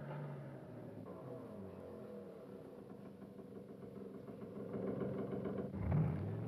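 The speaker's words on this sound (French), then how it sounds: "L'autoneige, le plus ancien des véhicules d'hiver, roule sur chenille." A tracked Bombardier snowmobile engine runs steadily at a mid-pitched drone, holding constant before swelling louder near the end as it revs up.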